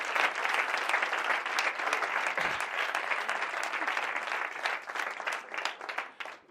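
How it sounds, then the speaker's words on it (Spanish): Sustained, loud applause from a conference audience in Jumilla, a thick wash of many hands clapping together that holds steady before thinning and tapering off near the end. "un gran aplauso también para los adictos en recuperación"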